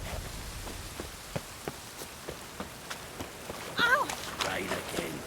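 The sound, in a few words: rain in video game The Witcher 3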